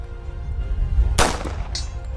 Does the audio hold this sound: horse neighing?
no